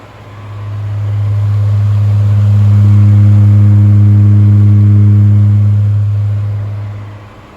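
A Seabreeze Cool Sweep electric fan held close up as it spins up, drones with a loud, steady low hum and rushing air, then winds back down, with no voices.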